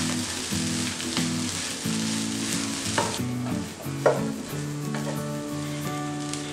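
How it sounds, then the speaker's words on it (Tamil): A masala bread and egg scramble sizzles steadily in a frying pan as it is stirred, with soft scraping strokes at irregular intervals. Background music plays alongside the cooking sounds. "அது வரைக்கும் நம்ம இதை கிளறி விட்டுடலாம் 3 மினிட்ஸுக்கு"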